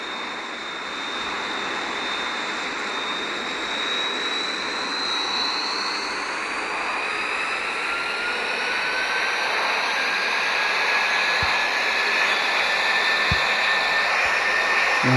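An F-16 fighter jet's engine in a flight simulator game, flying from Gunsan AFB toward Dokdo, roars as a constant loud whine and rushing hiss that slowly rises in pitch, unbroken throughout with no voices.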